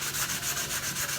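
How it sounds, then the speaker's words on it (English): 3M precision grade sandpaper rubs in quick back-and-forth strokes, about five passes in just over a second. The rasping is steady, close and even, with no voices. "My sandpaper of choice is this 3M precision grade sandpaper."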